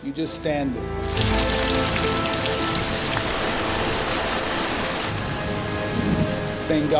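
Heavy rain pours down in a hot Indian garden, a dense, loud hiss of drops on surfaces, with a deep thunder rumble underneath and a brief quiet moment before the downpour swells.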